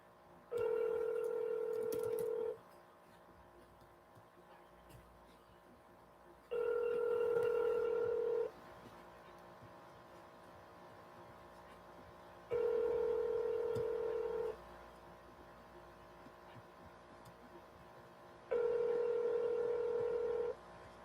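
Telephone ringback on an outgoing real estate cold call, a steady tone sounding in four regular two-second bursts separated by longer quiet gaps over a faint hum.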